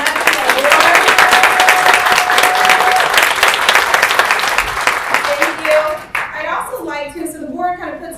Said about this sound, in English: can you please stand and be recognized with a loud applause?